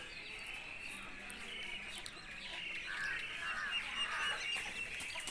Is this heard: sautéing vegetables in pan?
no